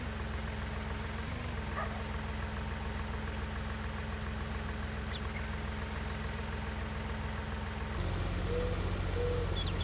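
A tractor engine idles steadily in Farming Simulator 19, a low, continuous rumble at moderate level with a slight shift in tone near the end and no talk.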